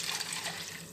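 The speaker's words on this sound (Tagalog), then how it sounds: "Lagyan ko na siya ng tubig." Water poured into a cooking pot for pansit bihon, a soft steady rushing splash, brief and fairly quiet, with no voices.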